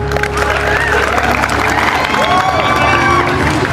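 A crowd at a freshers' party cheers and applauds loudly, a dense steady roar of clapping and shouting voices lasting throughout.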